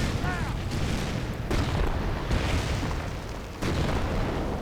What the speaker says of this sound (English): That's an awful lot of rockets at the same spot.